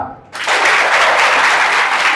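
Audience applause bursts in after a brief quiet start at a design thinking lecture, a dense, loud wash of many hands clapping steadily to the end.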